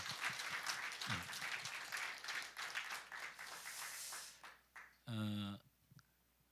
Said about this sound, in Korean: 우리 격려의 박수, 축하의 박수, 감사의 박수 한번 드립니다.